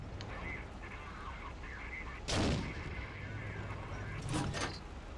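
Tank cannon firing in a tank video game, two heavy booming shots, the first near 2.3 seconds and a second around 4.5 seconds, over a steady low rumble of engine noise.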